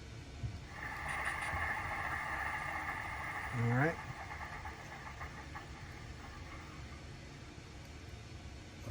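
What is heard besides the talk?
model railroad locomotive engine starting up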